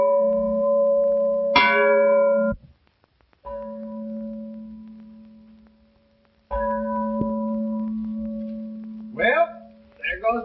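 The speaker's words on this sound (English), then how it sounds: "Well, there goes the bell." A breakfast bell rings at a ranch in an old black-and-white Western, loud and sustained in two long bursts separated by a short pause, with a brief chirping sound at the end.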